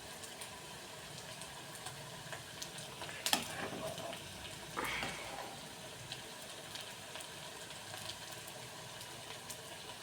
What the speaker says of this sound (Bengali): দেখো তেলে ভাজছি, এটা ভাজা হয়ে গেছে, নামিয়ে নেব।